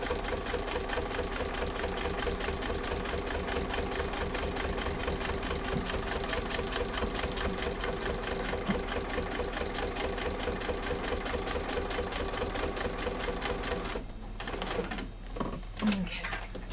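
A sewing machine with a walking foot runs steadily through layers of bag fabric, with a fast, even mechanical chatter held at close range throughout and a few brief handling noises near the end.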